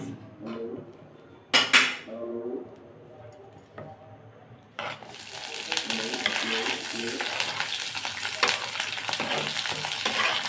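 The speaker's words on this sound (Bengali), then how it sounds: "এখন হচ্ছে আমি দিয়ে দিব পেঁয়াজ এবং মরিচ" Onion and chili hit hot mustard oil with a loud sizzle that settles into steady frying, with a few clinks of a utensil against the pan early on and no one talking.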